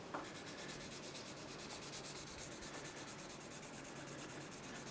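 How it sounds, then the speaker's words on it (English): Brass hooks and buckles are polished with cardboard and Autosol paste, making a continuous, faint, steady rubbing and scuffing close by, with no voices. "you can use the Autosol in conjunction with your cardboard"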